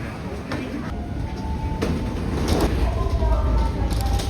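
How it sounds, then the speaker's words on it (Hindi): A Shinkansen bullet train travelling from Osaka to Tokyo at high speed gives a steady broadband rumble and rush that swells slightly louder over a few seconds, with faint clunks and no talking. "ये जापान की बुलेट ट्रेन है जिसको बोलते हैं शिनकानसेन"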